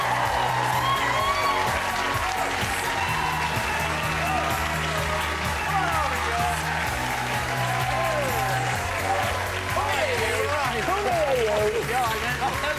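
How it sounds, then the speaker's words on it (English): Studio audience applause and cheering, dense and sustained throughout, with whoops rising over steady clapping and music-like tones underneath. "give a massive round of applause to today's special guest"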